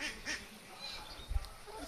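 A domestic goose gives a few faint, soft honks at a distance, with a brief low thump near the end and no voices.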